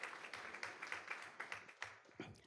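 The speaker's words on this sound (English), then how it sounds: "So let's give her a round of applause." Scattered applause from a small audience at a regular board meeting, honoring a student heading to Florida State University; a run of light, uneven claps over roughly two and a half seconds, moderately distant, with a faint murmur of voices underneath.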